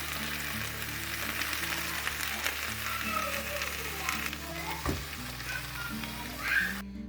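Ground masala paste poured into a hot pan for a Chettinad-style rabbit gravy sizzles loudly and continuously, with a low background hum and faint clatters underneath.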